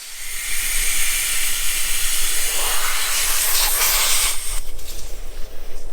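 Air hisses steadily out of a truck tire being deflated at around 35 psi, a loud, constant close rushing hiss that holds for the full six seconds with no talk.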